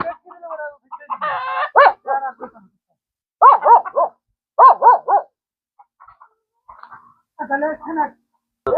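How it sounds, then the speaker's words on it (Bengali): A large local rooster on a desert poultry farm in Saudi Arabia crows close by in several loud, repeated bursts, with dogs barking between them and people talking nearby. "মুরগাটা দেখছেন মাসাল্লাহ কত বড়"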